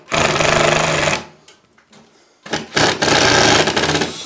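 A power drill whirs loudly in two bursts, spinning up and driving in roughly one-inch fasteners for a door closer, separated by a brief pause with faint clatter.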